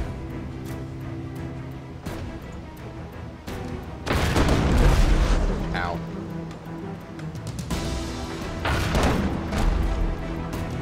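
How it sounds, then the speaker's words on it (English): A swivel gun loaded with grape shot fires in the naval video game Abandon Ship, giving two heavy booming blasts a few seconds apart over a steady rumbling ship ambience, each followed by scattered crackling impacts. "Swivel gun grape shot."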